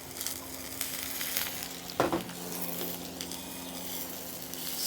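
Zucchini sizzling in olive oil in a carbon steel or cast iron pan, a steady close frying hiss with a brief louder crackle partway through, no talking.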